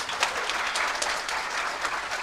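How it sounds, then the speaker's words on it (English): Sustained audience applause for a fiddle band at a closing ceremony: a dense, even wash of many hands clapping at moderate distance, with individual claps popping out now and then. "Can we just give the whole band a great round of applause?"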